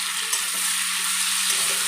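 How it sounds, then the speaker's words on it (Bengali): Ground spice paste for a rohu fish curry with potato and pointed gourd stir-fries in hot oil, a loud, steady, close sizzle that holds for a couple of seconds with a faint low hum underneath. "দিয়ে এবার খুব ভালোভাবে বন্ধুরা আমি এটা কষিয়ে নেব।"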